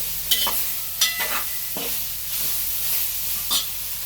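Plantain and prawns fry in a pan with a steady low sizzle, punctuated by four or five sharp scraping stirs of a spoon against the metal, close by and with no talking.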